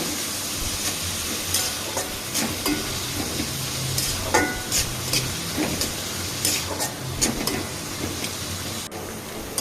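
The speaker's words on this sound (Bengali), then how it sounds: "এরপর লবণ, হলুদের গুঁড়া দিয়ে ভালোভাবে ভেজে নিতে হবে।" Bottle gourd peel fries with salt and turmeric in a pan, giving a dense continuous sizzle. Repeated scraping strokes of stirring pop out over the hiss throughout.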